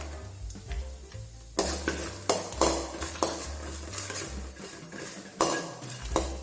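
Cashews and peanuts fry in a pan for coriander rice, opening with quiet sizzling, then turning to loud, irregular metallic scrapes and clatter from stirring over a low steady hum.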